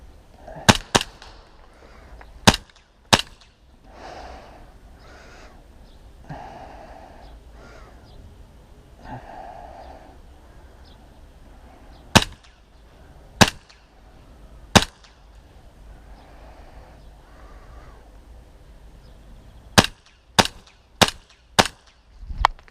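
Gunfire traded in a video game shooter with a sniper rifle, heard as sharp isolated shots in small clusters over quieter game ambience and muffled background sounds.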